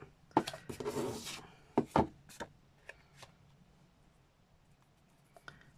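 Card sides for a keep box are being cut, heard as a few close, quiet scraping and snipping strokes with short taps in between, then near silence.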